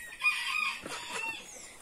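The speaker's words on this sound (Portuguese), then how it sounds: "as galinhas se espalhou pelo mundo" A rooster crows among chickens outdoors near a lake, a single faint crow followed by softer clucking, with no talking.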